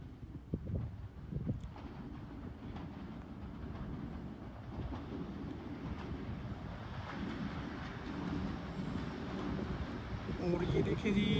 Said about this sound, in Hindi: PH-A20 आज इसको लीड कर रहा है और मसान से थ्रू पास होने जा रही हैं जी